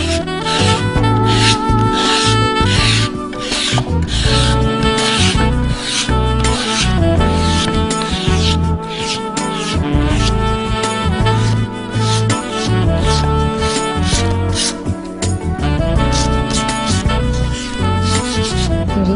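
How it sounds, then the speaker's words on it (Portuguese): Coarse sandpaper rubbed by hand over wood makes a loud, continuous rasping scratch, with quick back-and-forth strokes repeating close up for the whole stretch and no talking. "eu vou lixar."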